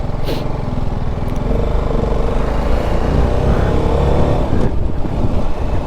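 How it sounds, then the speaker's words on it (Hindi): A BMW G sports motorcycle engine drones loudly and continuously while riding a rough off-road stretch on the mountain route from Pokhara to Muktinath in Mustang, with wind noise throughout. "और ये ऑफ रोडिंग चल रही है अब, वो भी स्पोर्ट्स बाइक पर, देख रहे हो।"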